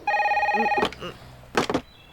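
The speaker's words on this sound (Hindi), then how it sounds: "जब भी इस फोन की घंटी बजती है" An old-style telephone bell rings in a short burst and then stops, followed by a couple of sharp knocks or clatters, with a faint voice in between.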